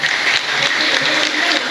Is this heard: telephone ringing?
no